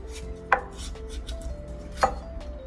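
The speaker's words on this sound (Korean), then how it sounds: "빨간 고추랑 땡초를 한번 썰어 보겠습니다" A knife cuts red chili and hot green chili peppers on a board, two distinct chops spaced well apart, close and fairly quiet over faint background hum, with no speech.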